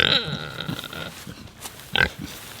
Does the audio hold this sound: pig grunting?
yes